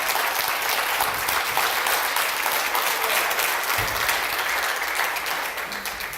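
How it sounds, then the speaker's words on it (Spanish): Loud, sustained applause from a church congregation praising the Lord, a dense wash of clapping that holds steady and eases slightly at the end. "Dele un fuerte aplauso al Señor."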